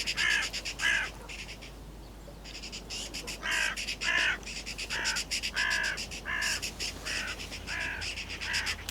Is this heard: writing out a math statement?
no